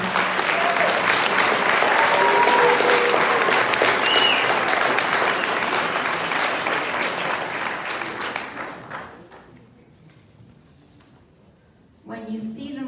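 An audience applauds graduating seniors at a collegiate high school senior awards ceremony, loud sustained clapping that gradually fades over about ten seconds before a voice begins to speak at the end.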